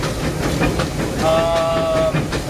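Disneyland Railroad train running, a steady broadband rumble with a brief high squealing tone partway through, moderately close and continuous.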